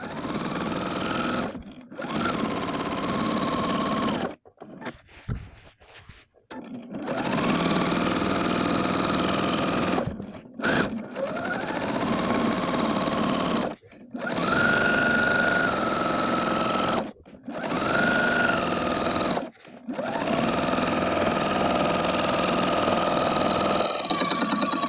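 Sewing machine stitching rows of quilting across a quilt, running in long steady bursts of fast mechanical whirring with short pauses between passes, loud and close with no talk.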